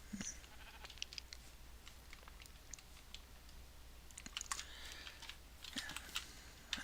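Sheep in the game Minecraft bleat several times in short high calls, mixed with quick clicking of a computer keyboard throughout.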